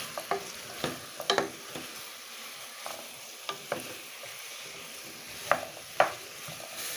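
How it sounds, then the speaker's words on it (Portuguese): A spoon stirring squash in a pot for soup, with scattered scraping knocks and clinks against the pot over a soft sizzle, close by and without talk. "Vou mexer aqui agora,"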